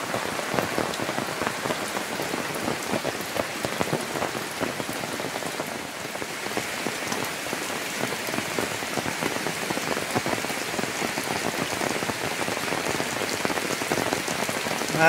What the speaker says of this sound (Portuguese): É muita chuva, minha gente.